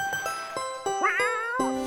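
A cat called Fluffy meowing in a cartoon-style scene, several short meows and a longer wavering one, close and clear amid light clicks and bumps.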